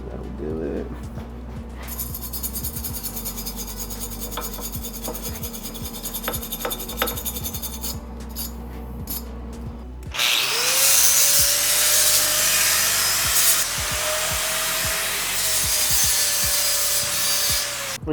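An angle grinder works on the steel pipe of a motorcycle exhaust built from a DIY kit for a Yamaha V-Star 1300. A steady abrasive rasp with a whining tone is close and loud, and it grows harsher and brighter partway through.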